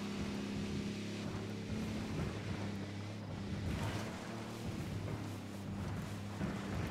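Boat engine in the video game Ghost Recon Wildlands, a steady low droning hum that runs without a break, mixed with wind and water rush, close and fairly loud throughout.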